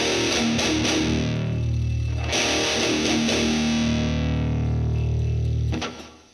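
A heavily distorted electric guitar plays a slow riff: an open hit rings out, then chugging palm-muted hits follow, before a long sustained chord fades at the end.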